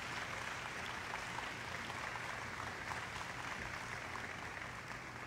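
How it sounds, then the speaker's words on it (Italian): A church congregation bursts into applause during a worship service, producing a faint, uniform wash of clapping that stays even throughout over a low background rumble. "Ora fateli il miglior applauso che il Signore gli aveva fatto da tempo"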